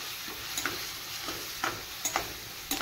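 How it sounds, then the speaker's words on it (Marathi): Masala with onion and tomato fries in a pan under a soft, continuous sizzle, with quick metallic scrapes and taps of the spoon as it is stirred, close and low in level without speech. "आणि थोडा वेळ मसाला शिजेपर्यंत परतत राहूया।"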